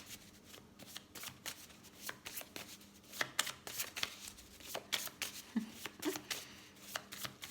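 Tarot cards being shuffled by hand, a steady run of crisp riffling flicks and soft slaps close up, continuing without pause and with no talk over it.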